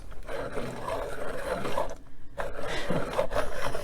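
A colored pencil being sharpened, a close, continuous scratchy rasping of wood and lead with a brief pause midway before the grinding resumes.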